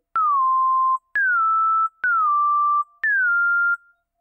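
A pure sine-wave synth tone from ZynAddSubFX sounds four separate times in an even rhythm, each note starting with a sharp click, gliding down slightly and then holding, clean and loud with no other sound.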